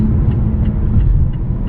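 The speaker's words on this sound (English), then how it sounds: "diesel car is really quiet. It's not, you can hear it, it's a diesel" Diesel engine of a 2019 Mazda 6 CD150 Revolution drones steadily as the car drives at night, a low continuous rumble with road noise filling the cabin and no pauses.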